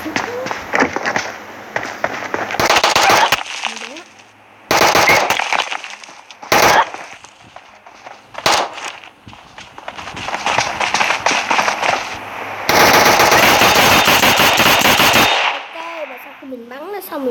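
Bursts of automatic rifle fire from a Mini M4 in the mobile battle-royale game PUBG Mobile, loud and close, several volleys of varying length with a long sustained burst near the end and short gaps between.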